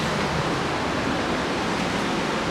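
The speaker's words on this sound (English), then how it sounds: "Just the sound of the ocean is just so soothing." Ocean waves heard from a balcony in the Maldives make a steady, dense wash of surf that fills the whole stretch evenly, with no talk over it.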